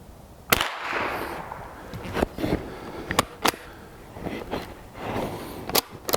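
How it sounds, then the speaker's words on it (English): Offhand shots from a 1930s Mossberg Model 40 .22 bolt-action rifle fired outdoors, several sharp, fairly light cracks spaced a second or so apart, near and clear, with handling noise between shots. "we're going to go ahead and do some offhand shots"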